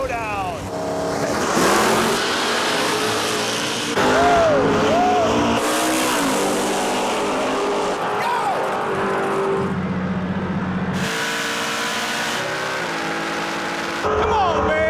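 Chevrolet Camaros with a 565-cubic-inch big block Chevrolet engine roar through a drag race, loud engine howls rising and falling with revving and passes, while announcer-style talk runs over the noise throughout.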